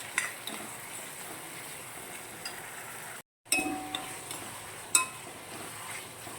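Masala with mashed tomatoes being stirred in a pan for a rock fish curry, steady scraping and stirring with occasional spoon clinks against the metal, close and alone.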